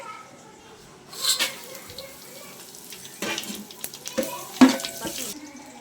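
Whole spices fry in a large quantity of hot oil for a ten-kilo dum biryani, then green chilies and onions drop in, bringing bursts of loud sizzling over a quiet background and a few clanks.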